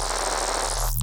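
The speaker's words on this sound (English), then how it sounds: "FM distortion tends to have this very like gurgly high end." A dense, buzzing synth bass with FM distortion giving a harsh, gurgling high end, sustained at loud volume before cutting off abruptly.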